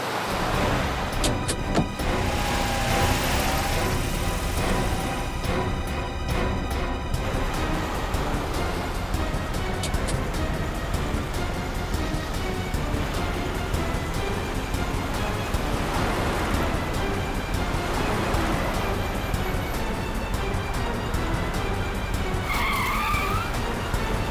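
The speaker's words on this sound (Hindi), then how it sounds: "इस तरह से गाड़ी चला रहा है, कहीं किसी को नुकसान ना पहुंचा दे।" A car driven recklessly skids and squeals its tires in a dramatic chase, a continuous loud roar of engine and screeching rubber with sharp bursts, close and alone without speech.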